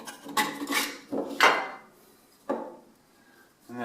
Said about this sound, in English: you can then pop this cover off